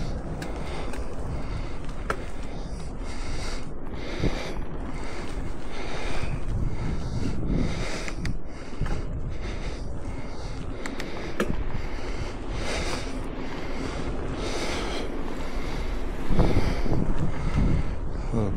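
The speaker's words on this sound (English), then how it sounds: "Gusty wind through here." Gusty wind roars steadily across a microphone on a mountain bike ride along a forest trail, a loud continuous rumbling buffet with surging gusts and no talking.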